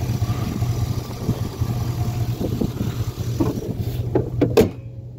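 A 2001 GMC Yukon with a Vortec 5.3 V8 idling steadily nearby, a low even rumble with a few clicks and knocks toward the end.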